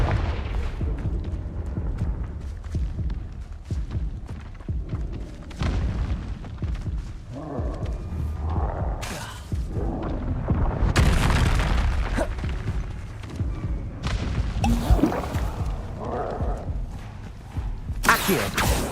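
Confringo fire-spell explosions from Hogwarts Legacy boom several times amid game sounds, with heavy blasts near the middle and toward the end.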